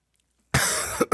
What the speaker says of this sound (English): I just coughed right into the mic